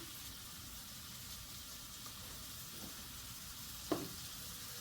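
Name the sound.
mushrooms frying and browning in a pan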